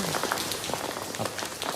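Steady rain falls in Chanthaburi town during a live flood report, a dense, even patter on surfaces that fills the whole moment with no voices over it.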